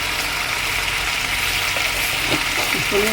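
Cumin seeds sizzling in hot oil at the start of cooking a pabda fish curry, a steady, close frying hiss that continues without talk, with a faint clink of utensils near the end.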